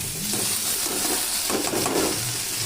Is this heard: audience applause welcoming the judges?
no